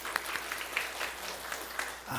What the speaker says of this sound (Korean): 우리 조민희 선생님, 우리 박수 한번 해보세요